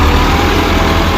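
A tractor engine runs loud and close on a dangerous work site, giving a heavy, steady low rumble with no break and no voices.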